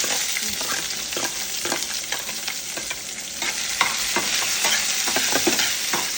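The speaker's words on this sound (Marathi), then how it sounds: "मग मी कांदा आणि टोमॅटो फक्त भाजून घेते. कांदा लालसर होईपर्यंत कांदा भाजायचा." Onion and tomato fry in a pan for homemade butter chicken, with a loud, steady sizzle and repeated scraping strokes of a spoon stirring close by. No voices are heard.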